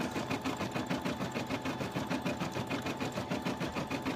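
An embroidery sewing machine stitches a fall design, its needle hammering in a fast, steady mechanical rhythm at close range with no voices.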